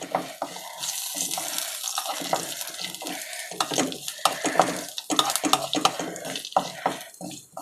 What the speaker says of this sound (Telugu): ఇవి కొబ్బరి ముక్కలు ఏగుతున్నాయి కదండి.